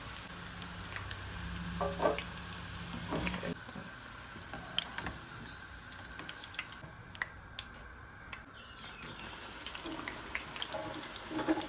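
Oil hisses faintly in a pan while okra curry is made, a quiet, steady sizzle broken by scattered light ticks and clinks from utensils, with no voices.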